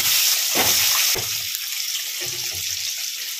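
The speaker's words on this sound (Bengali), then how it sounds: "ডিমগুলো ভেজে নিচ্ছি" Eggs fry in hot oil left from frying potatoes, a loud, continuous, close-up hiss with a few bursts of spluttering and utensil knocks.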